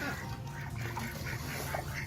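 Ducks at a duck pond on Lake Elsinore quack and chatter in a busy outdoor scene, with several faint calls scattered through steady ambient noise.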